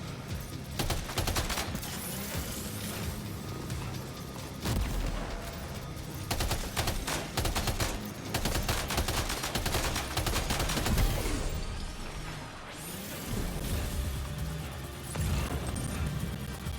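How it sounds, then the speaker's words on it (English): Sustained machine-gun fire in the video game Death Stranding 2, with dense rapid bursts running nearly the whole time, loud and close, broken by brief pauses and a short lull near the end. "Go back to our machine gun we had before."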